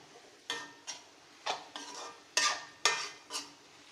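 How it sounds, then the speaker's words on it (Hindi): Sprouted moong is mixed with masala in a pan, giving a series of seven irregular scraping stirs, each a short sharp rasp over a faint background sizzle. "इस तरह अच्छे से मिला देना है इसको"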